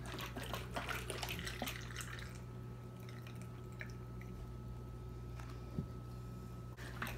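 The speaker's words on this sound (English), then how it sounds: "As we pour the green liquid into the top of the bottle." Green-coloured water being poured into the top of a bottle for a lava lamp experiment, a steady close trickle and splashing with faint drips over a low background hum.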